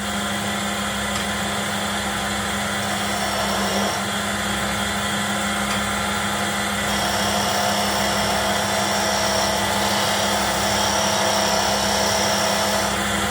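A wood lathe hums steadily at close range during a scraping cut with a skew chisel, with soft rhythmic thumps recurring every second or so beneath the continuous motor drone.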